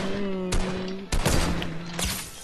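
Several sharp, loud gunshots crack in a shooter video game, spaced roughly half a second apart over a background of game tones, close and punchy.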